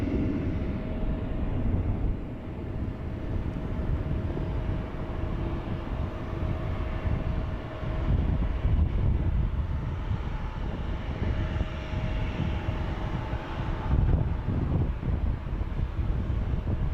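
An Aer Lingus airliner taking off at San Francisco International Airport, a broad distant engine roar that swells and holds for the whole stretch, mixed with wind buffeting on the microphone and no voices.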